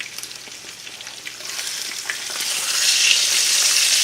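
Sirloin steak sizzling in a hot frying pan, a dense close hiss that swells louder and brighter toward the end, with no talk.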